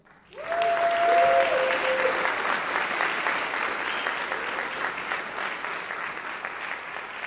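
An audience at a hip hop mixing masterclass breaks into applause, rising suddenly to a full, sustained roar of clapping, with a brief whistle near the start, then holding steady and slowly easing.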